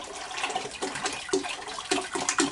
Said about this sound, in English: And you may want to turn the water down so it doesn't get all over you.